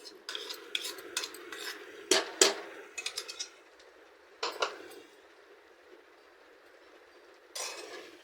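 A spoon stirs grated coconut in a metal pan for flaxseed laddu, giving bursts of close scraping and clinking that come in quick irregular runs and then pause to near-silence before starting again.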